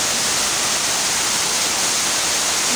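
Water rushes steadily in a cave in a Hong Kong park, a loud, constant broadband roar like a small waterfall that fills the space with no breaks.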